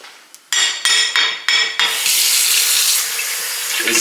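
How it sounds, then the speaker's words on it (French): Water pours steadily from a tap into a bowl of raspberries and oat flakes, with a few short splashy bursts at the start before settling into a continuous close, loud stream. "Ensuite, vous allez juste mettre de l'eau."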